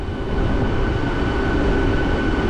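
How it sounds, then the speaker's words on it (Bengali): A train pulling into Digha station, a continuous broad rumble and hiss of rolling wagons with a faint steady tonal whine, close and fairly loud, no voices. "ট্রেন যথারীতি 10 মিনিট লেটে ঢুকেছে"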